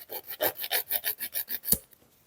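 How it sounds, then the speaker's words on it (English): A 180-grit nail file is worked across a fingernail to shape it, giving about a dozen quick, even rasping strokes in a steady rhythm, close and clear, before it stops. "And now I'm gonna file my shape. So I'm taking a 180 file."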